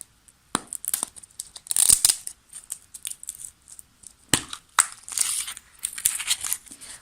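A plastic surprise toy ball is pried open with sharp crinkling and tearing crackles of wrapper and plastic, coming in irregular close bursts with a loud cluster early and another later.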